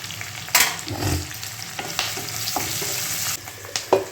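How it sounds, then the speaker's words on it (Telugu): Turmeric goes into a frying pan of hot oil while cooking a dish of Indian flat beans (anapakaya) in milk, giving a steady close sizzle with a few scraping stirs and clinks throughout. "పసుపు వేస్తున్నాను"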